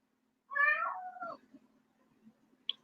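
A pet cat meows indoors, wanting a treat: one drawn-out, wavering meow close by, followed by faint shuffling and a brief high squeak, with no talk.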